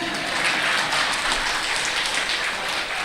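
Steady applause from an audience, many hands clapping continuously at moderate volume for a few seconds, no speech over it.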